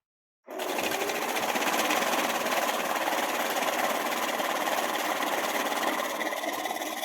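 A BCASH MVC800 banknote counter runs through a stack of worn banknotes, starting abruptly and then whirring in a steady, rapid, even flutter that stays close and consistent to the end.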